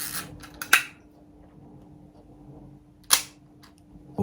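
Zorky 4 rangefinder film camera shutter firing twice, each a crisp, close mechanical click with a short snap, separated by about two and a half seconds of near silence.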